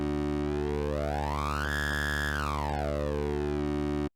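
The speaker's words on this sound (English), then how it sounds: "this basically is already like a super resonated 303 kind of sound, but in wavetable form" A resonant 303-style acid wavetable synth tone in Serum holds a steady bass note while its bright harmonics sweep upward, hover, then glide back down.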